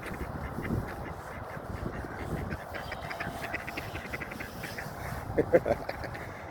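Geese honk a few times in the distance against a noisy outdoor park background, with a short burst of louder calls near the end.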